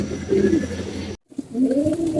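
Low, throaty cooing from pigeons, several overlapping rolling calls close by, broken by a brief silent gap before the cooing resumes.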